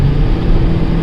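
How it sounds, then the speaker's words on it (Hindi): Steady roaring wind noise rushes in through a broken rear window of a VW Polo GT TSI while driving, loud and continuous, with a low rumble underneath. "तो पीछे से हवा की आवाज़ आ रही है।"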